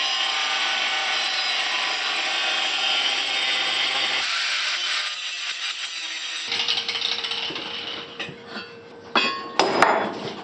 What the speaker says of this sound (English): I'll use this metal plate to cut out a mounting point